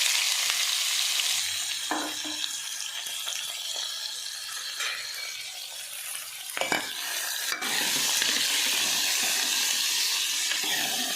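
Cumin seeds and onion fry steadily in hot oil with a continuous broad sizzle, joined by occasional stirring scrapes and a louder crackle burst near the end as the onions hit the pan.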